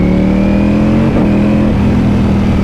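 A 2018 Ducati Panigale V4S engine roars loud and close, a deep sustained rev holding steady with a slight pitch dip partway through, no voices over it.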